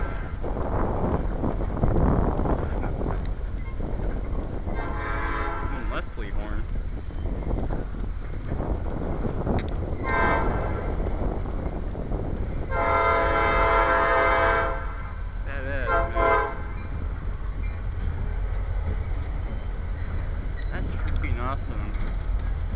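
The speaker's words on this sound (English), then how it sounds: "That's a Leslie horn, by the way." A Leslie train horn on the Kansas City Southern sounds several times in multi-tone blasts over loud rumbling and wind noise, with a person talking nearby.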